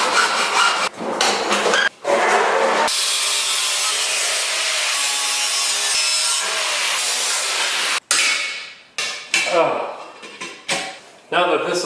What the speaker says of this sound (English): Now that this is all sanded